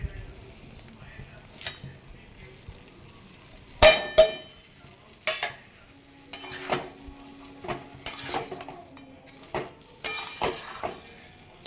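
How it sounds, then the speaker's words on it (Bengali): Rice stirred while it fries in a pot, a quiet low sizzle broken by scattered scraping and clinking strikes of a spoon against metal, some in quick clusters, with occasional speech. "চালটা দিয়ে এবারে এটাকে ভালো করে নেড়ে নিচ্ছি এই আর কি কষিয়ে নেওয়ার মতো কষিয়ে নিচ্ছি"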